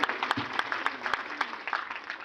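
Devotees at a Shrimad Bhagavat Katha in a residential colony give a short burst of clapping for the host's son and daughter-in-law. The claps are close and crisp and taper off toward the end.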